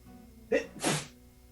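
A single sneeze at a tabletop role-playing game session, a short sharp intake followed by a burst, fairly close and clear against a quiet background.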